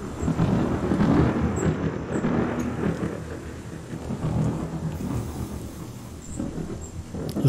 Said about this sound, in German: Das Gewitter ist eindeutig zu laut.